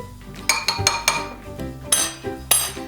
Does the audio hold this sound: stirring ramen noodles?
yes